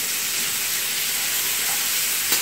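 Bacon fries in a pan with a steady, close crackling sizzle that holds evenly throughout, one brief sharper pop near the end and no talking.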